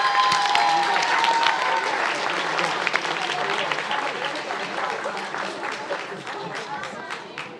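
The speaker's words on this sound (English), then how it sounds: "One more round of applause for 13-14" Steady clapping from an audience at an end-of-season youth sports awards ceremony, loud at first and slowly fading, with a voice briefly heard at the start.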